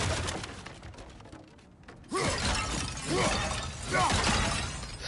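Breakable objects shatter under heavy blows in God of War Ragnarok on PS5: three loud, crunching smashes about a second apart, each a sharp burst with ringing debris, over steady game ambience.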